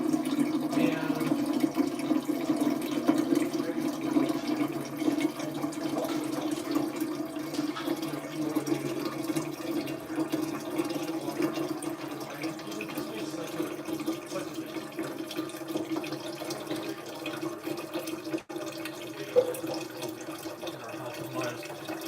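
Water pours steadily into a hydrogen water purifier, a continuous, even rush of filling liquid held at a constant level throughout, close to the microphone.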